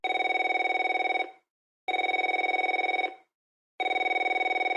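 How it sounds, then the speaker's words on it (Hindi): A telephone bell rings in three loud, steady bursts separated by short silent gaps, clear and close with no voices. "उसी समय उसका फोन बजा था।"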